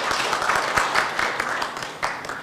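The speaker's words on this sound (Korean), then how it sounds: "큰 박수로 축하해 주시기 바랍니다" An audience at a forum appointment ceremony applauds, a steady wash of many hands clapping at moderate loudness throughout.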